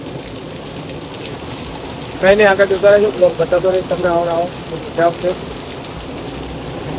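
Heavy monsoon rain falling in Ahmedabad amid street flooding, a steady hiss of downpour running under someone talking briefly in the middle.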